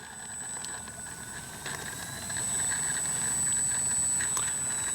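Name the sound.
RC plane FMS Ranger taxiing on its wheels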